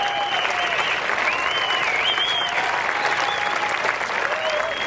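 A golf gallery applauds at the 2018 CP Women's Open, steady sustained clapping from a large crowd with scattered cheers and whistles rising above it.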